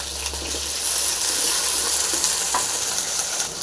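Small sambar onions and green chillies sizzle loudly in hot oil, a close, even crackle with a few stirring scrapes throughout.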